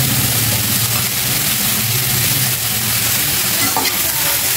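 Chopped broccoli and zucchini stirred in a hot frying pan, a steady loud sizzle with scraping and tossing throughout, close up and without speech.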